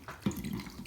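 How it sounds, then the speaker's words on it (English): Ginger beer poured over a glass packed almost to the top with ice for a Moscow Mule, a short close liquid splash and trickle that swells quickly and then runs steadily. "add your ginger beer."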